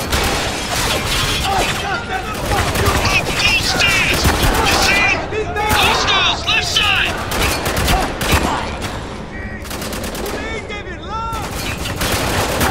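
Dense gunfire and bursts of automatic weapons in the Spec Ops: The Line shooter game, with shattering impacts and shouting soldiers over the near-continuous loud firefight.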